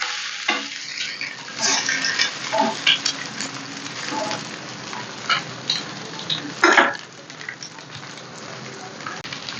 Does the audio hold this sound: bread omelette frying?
yes